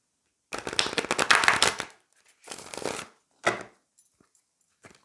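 Tarot cards are shuffled in several riffling bursts, a long crisp flutter followed by two shorter ones and a light tap, close up with no speech.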